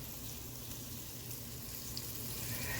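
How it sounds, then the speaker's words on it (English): Flour-coated pieces of meat frying in a pan produce a steady, even sizzle throughout, close and continuous with no talking. "just get a light coating on all your pieces of meat. Don't overcrowd your pan."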